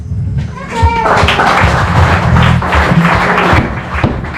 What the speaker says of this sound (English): Just clap your hands.